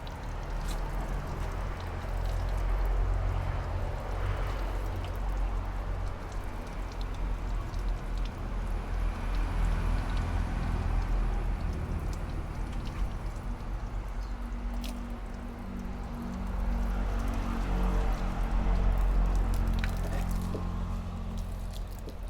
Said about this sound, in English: I'm going to spray some water in it